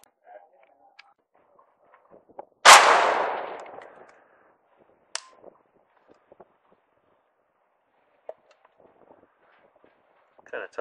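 A Saiga 5.45x39 rifle fires one sharp, loud shot outdoors at a target 160 yards away. The crack is followed by a decaying echo, then quiet with faint clicks and handling noises.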